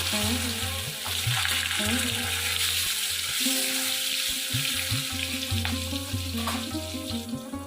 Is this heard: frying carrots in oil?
yes